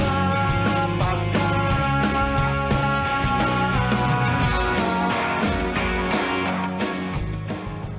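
Indie rock song from a 2003 album plays loud and steady with driving drums, guitars and a sustained dense band mix, with no talking over it.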